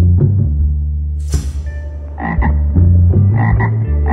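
A frog croaks in a loud, close series of short, rough calls, repeated in uneven bursts with brief pauses between them.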